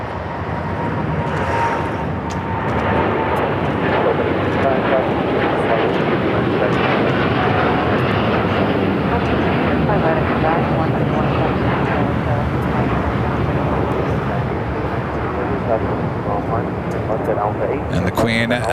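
Airliners rolling on the runway and landing at Los Angeles International Airport, a steady loud jet engine roar that fills the whole stretch, with someone talking over it.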